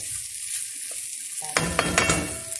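A thick chicken breast fries in a pan, with a steady close sizzle that swells into louder crackling and spitting midway, along with stirring noises.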